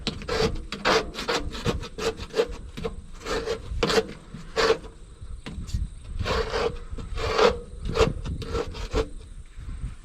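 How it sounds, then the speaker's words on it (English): Repeated rasping scrapes on grimy metal from an Allis Chalmers D model grader part, a steady run of short strokes close up with no talking. "I really need to scrape all that crap off too."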